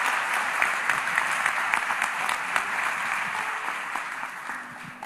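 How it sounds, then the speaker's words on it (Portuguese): A church congregation applauds after a prayer, a steady wash of many hands clapping at moderate distance that tapers slightly toward the end. "Vamos aplaudir ao Senhor pela vida do pastor Eli."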